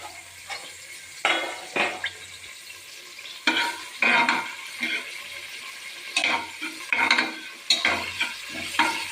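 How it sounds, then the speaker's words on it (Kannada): Finely chopped onion going into hot oil and frying for a Maratha-style mutton chops dish, with bursts of sizzling and stirring scrapes that come and go, fairly close and loud, with no voices. "ಎಣ್ಣೆ ಕಾದ ತಕ್ಷಣ ಸಣ್ಣದಾಗಿ ಹೆಚ್ಚಿಟ್ಕೊಂಡಿರೋಂಥ ಈರುಳ್ಳಿ ಹಾಕ್ಕೊತಾ ಇದ್ದೀನಿ"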